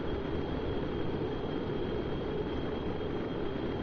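Plane flying in Kerbal Space Program, a constant airy engine drone with a thin high whine, steady and unchanging throughout, no voices.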